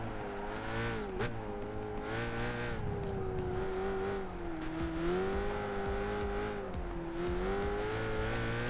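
An Alfa Romeo race car in Gran Turismo 5 drones loudly and steadily, its engine pitch rising and falling as it accelerates and eases off, with occasional tire squeal.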